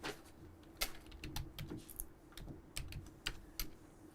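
Rapid, uneven keystrokes on a computer keyboard, with sharp clicks spaced in quick bursts over a low steady room hum. Nobody speaks.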